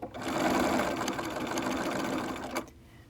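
An older Bernina sewing machine stitches a fabric mask in a fast, steady whirring run that stops abruptly near the end, leaving quiet.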